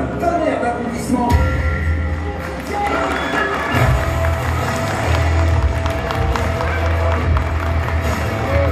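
An audience applauds and cheers at a live Grinch-versus-superheroes stage show, a loud, continuous wash of clapping and crowd noise with a low rumble beneath, sustained for the whole stretch.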